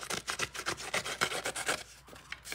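Scissors scrape repeatedly along the edge of decorative paper to distress it, a close, rhythmic series of rough rasping strokes with brief pauses between them.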